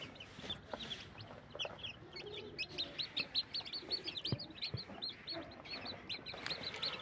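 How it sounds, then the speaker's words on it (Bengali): Silkie and desi chicken chicks in a brooder peep and chirp constantly, many high, thin calls overlapping in a busy, soft chorus with no talking. "আর এই দুটো হচ্ছে গিয়ে সিল্কি মুরগির বাচ্চা।"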